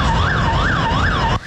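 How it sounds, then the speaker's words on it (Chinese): An ambulance arriving at a crowd crush scene, its loud wailing siren rising and falling steadily in three cycles over road rumble, then cutting off sharply near the end. "大马路上一台接一台的救护车陆续抵达现场"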